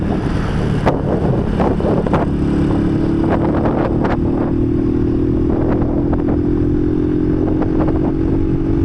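Motorcycle ridden on a country road during a nature tour, its engine a steady close drone under heavy wind buffeting, with a few clicks and knocks along the way.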